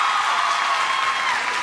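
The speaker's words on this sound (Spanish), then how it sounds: "Que aplaudan los que crean que tiene que cortar." A studio audience claps loudly and steadily for a brief burst, the dense applause sustained without pause.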